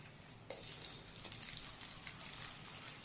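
Sliced onions fry in hot oil in a pan while chicken fry masala is being prepared, giving a faint, continuous crackling sizzle with a few soft stirring scrapes. No voices are heard.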